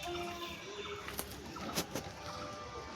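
A male Madras pigeon cooing indoors, faint low murmuring coos under light background noise, with a couple of sharp clicks or taps.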